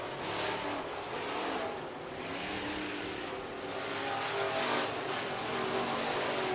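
Race cars roaring around the dirt oval at RPM Speedway in Hays, Kansas, during a heat race, engines loud and continuous as the field passes, with a broad steady roar swelling and easing.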